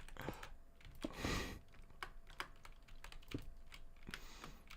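Steady typing on a computer keyboard during a Minecraft build stream, with irregular close clicks and clacks, fairly quiet, with no talk.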